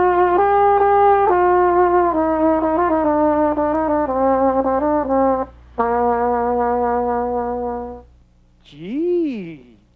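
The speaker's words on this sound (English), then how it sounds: "This is a trumpet." A trumpet plays a bright, quick run of short tongued notes, then a held phrase. A brief wavering vocal sound follows at the very end.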